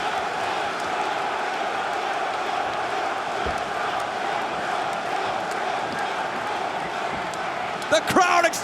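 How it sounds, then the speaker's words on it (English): A wrestling crowd roars in a packed Lowell arena during a Ring of Honor match, a dense, steady wall of cheering that holds throughout, with commentary voices beneath it and a short burst of louder noise near the end. "The crowd exploding in Lowell."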